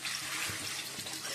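Water pours steadily into a pot of potato curry during home cooking, a continuous close splashing rush with no talking over it.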